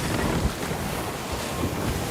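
Wind blowing over open sea in the video game Sea of Thieves, a steady rushing gust with wave wash beneath, continuous and fairly loud with no talk.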